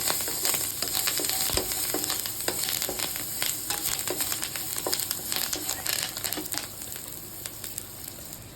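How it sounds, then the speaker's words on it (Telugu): Coriander and curry leaves crackle in hot oil while frying potatoes, a steady loud sizzle peppered with sharp pops and spits throughout. "ఇదిగోండి ఇందులో కొత్తిమీర ఉంది అలాగే కరివేపాకు కూడా ఉంది రెండింటిని కలిపి వేసేసాను చూస్తున్నారు కదా చిటపెట్టలాడుతుంది"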